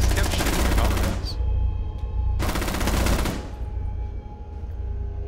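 Automatic gunfire from Rainbow Six Siege on the Border map comes in two rapid bursts of rattling shots, each about a second long, separated by a short pause and followed by quieter game ambience.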